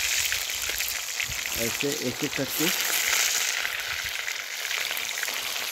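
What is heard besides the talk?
catfish pieces frying in hot oil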